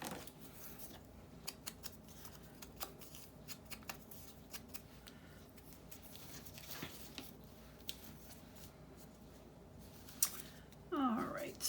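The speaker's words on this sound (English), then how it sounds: "using big scissors when little scissors are just probably better and sitting right there" Large scissors snip repeatedly in short crisp cuts through stiff cardstock, close and fairly quiet, with a rustle near the end.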